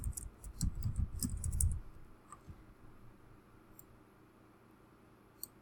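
Rapid clicking keystrokes on a computer keyboard, a quick close-up burst for about two seconds before the tapping thins to a couple of isolated clicks in a quiet room.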